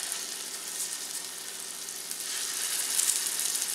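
Small polpettine meatballs fry in a pan with an even, dense hiss of hot oil that swells slightly louder toward the end, close by and without talk.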